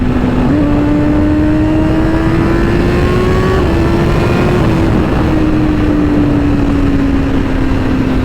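A sport motorcycle with a stock air filter and exhaust runs near its top speed of about 317–320 km/h. Its loud, continuous, high-pitched engine drone comes through strong wind rush, the pitch creeping upward and then easing slightly.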